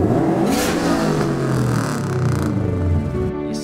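A Subaru car engine revs hard and loud up close, a raspy roaring surge that wavers and climbs for a few seconds with rattling mechanical clatter underneath.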